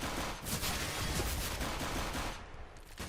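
A rapid CS:GO rifle spray sounds as a quick, continuous rattle of gunfire, loud and close, lasting about three seconds before tailing off slightly.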